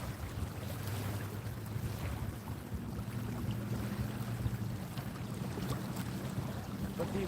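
Waves wash against the shore in a continuous rough rumble during surf casting, mixed with wind buffeting the microphone, with no clear voice.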